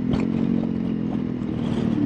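A Honda CRF300L engine humming under load while the rider short shifts, a mid-pitched steady drone with light clattering and wind, close and alone.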